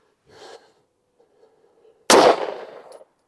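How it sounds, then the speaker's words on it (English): A single sharp pistol gunshot firing 115 grain PMC Bronze ammunition at a target range, loud and close, preceded by faint handling noise and a soft breathy sound. "Let's shoot a 10-shot group at the top left."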